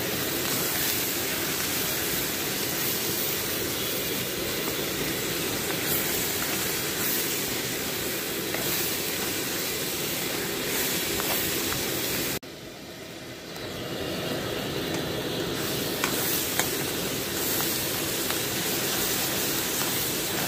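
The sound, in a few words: onion pieces frying in a pan with turmeric and salt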